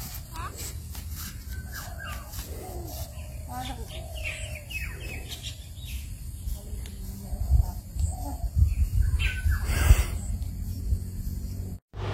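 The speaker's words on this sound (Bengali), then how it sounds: "সকালবেলা আর সন্ধ্যাবেলা এই দুই টাইম বাড়ির পিছনের দিকে আসলে পরে পাখির কিচিরমিচির ডাক শুনতে" Small birds chirp and twitter behind a village house on a cold morning, their calls scattered over steady background noise while people talk nearby for much of the time.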